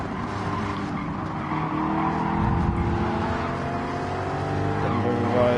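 A Porsche race car in Gran Turismo 7 drives hard, its engine a steady rising and falling drone with gear changes and faint tire squeal, continuous and close.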